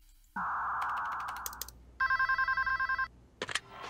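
A telephone rings in a quick burst of rapid electronic trills lasting about a second. Before it come screechy tones like a dial-up modem, and a few clicks follow, all at a fairly quiet level.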